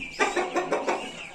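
A rooster gives a short run of four or five clucks in quick succession, close and clear with no one speaking.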